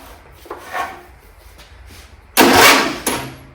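A Briggs V-twin engine on a John Deere LA120 lawn tractor is cranked over on jumper cables. Faint short scraping cranking attempts are followed by a loud, harsh grinding burst that stops abruptly, then one brief shorter burst.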